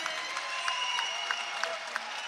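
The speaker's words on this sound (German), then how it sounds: "Hier Applaus für Peter Niari und Leo Lommer" An arena crowd applauds for two MMA fighters before a middleweight championship bout, a dense continuous wash of clapping with a few sharper claps poking through, heard briefly under an announcer's voice.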